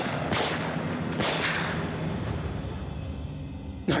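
Rifle shots fired at a wolf during a wilderness hunt near a village: a few sharp, loud outdoor cracks spaced apart, each trailing off in a long echoing decay, with a final abrupt blast at the end.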